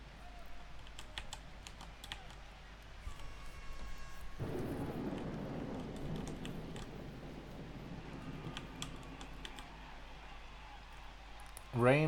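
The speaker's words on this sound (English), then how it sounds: "Rain definitely spices things up a bit." Steady rain hiss with low rumbling thunder in the Blood Bowl video game, a broad wash that thickens partway through, with sharp clicks scattered over it and a brief tonal burst near the end.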